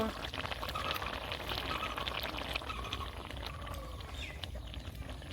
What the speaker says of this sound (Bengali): দেখেন বন্ধুরা জলটা ফুটছে।